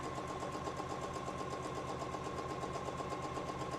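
A sewing machine run by foot pedal hums steadily throughout with a fast even mechanical whir, close and moderately loud, no talking.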